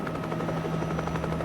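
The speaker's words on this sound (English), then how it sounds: "Chopper 4 over the wreckage as Miami Beach Coast Guard look for any survivors." News helicopter hovering over plane crash wreckage in the ocean off Miami Beach, a steady, loud rotor drone with a constant low hum and rhythmic blade chop throughout, no voices.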